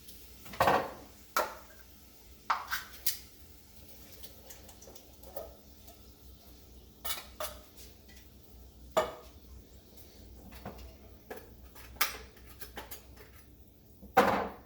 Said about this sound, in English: We're going to take each can, fill it with water, pour it in a pot.